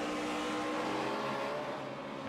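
A 2010 NASCAR Sprint Cup race car, the No. 20, roars steadily at the All-Star Challenge at Charlotte after going off into the grass, a loud continuous engine drone that fades slightly at the end.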